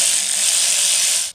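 A hand ratchet tightens starter bolts on a 1971 Cadillac DeVille, giving one fast, close, continuous clicking burst that stops abruptly near the end.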